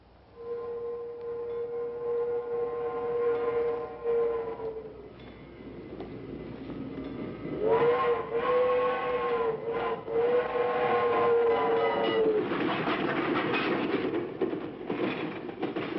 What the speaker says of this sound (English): Train muffled it.